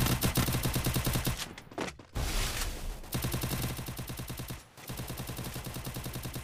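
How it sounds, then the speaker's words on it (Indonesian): Rapid automatic gunfire in a Free Fire battle royale match rattles continuously in dense bursts, with a couple of short pauses, loud and steady throughout. "Anjir, oh, ada yang menembak tuh."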